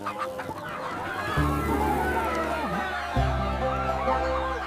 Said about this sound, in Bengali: মুরগিগুলো খাঁচার ভেতর